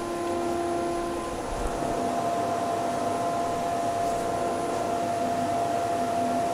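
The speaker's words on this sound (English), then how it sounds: "So this is a 180 on the rotary sander." A rotary sander with 180-grit paper works aggressively over a wooden piece, making a continuous, even whirring drone at close range, loud and unbroken throughout, with no speech.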